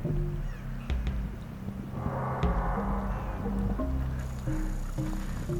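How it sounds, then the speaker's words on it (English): Clark's nutcrackers call in high mountain country, sending out a harsh, grating call at a moderate distance over a steady low background hum. "those over there, those are Clark's nutcrackers"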